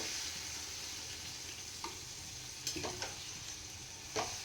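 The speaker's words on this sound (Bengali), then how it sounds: "এর মধ্যে আমি জল দিয়ে দেবো।" Bata fish curry simmers in a pan after water is poured in, producing a low continuous sizzling hiss with a few soft utensil clinks near the end.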